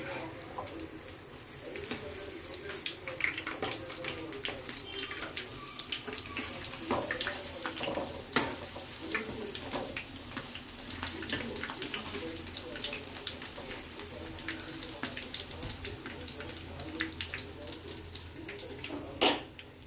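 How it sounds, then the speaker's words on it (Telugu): Urad dal garelu frying in hot oil, a continuous crackling sizzle with scattered sharp pops, fairly quiet and steady across the whole stretch, with a brief louder burst near the end. "ఈరోజు గారెలు వేద్దామని గారె వేస్తున్నాను."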